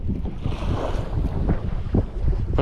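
Strong wind roars across a microphone on a fishing boat at sea, a loud, continuous buffeting rush with gusty swells and the wash of water beneath.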